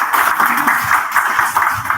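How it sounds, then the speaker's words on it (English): Brief, dense clapping from an event audience for a youth ideathon team, a short close burst of applause lasting about two seconds. "So a round of applause."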